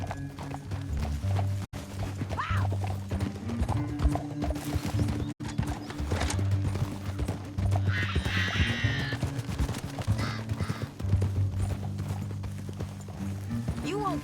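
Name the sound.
horse hooves clip-clopping, from a video game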